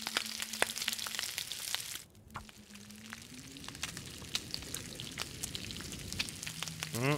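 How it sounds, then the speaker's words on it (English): Moose meat sizzles over a fire in the survival game The Long Dark, a steady crackling fry with scattered sharp pops and a low tone at the start and end. "Just trying to cook up this moose."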